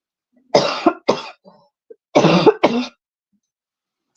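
A woman coughs in two quick pairs, close and sharp, with a faint throat sound in between and silence around them.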